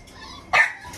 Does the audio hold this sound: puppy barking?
yes